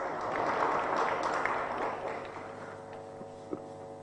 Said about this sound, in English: Let's give Dr. Adongo a better round of clapping